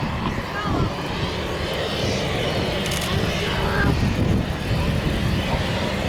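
Red Arrows display jets roar overhead during a rolling manoeuvre at the Luchtmachtdagen 2019 airshow, a loud, steady, broad engine rush lasting throughout, with a voice speaking over it.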